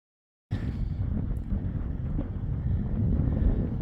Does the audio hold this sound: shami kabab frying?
no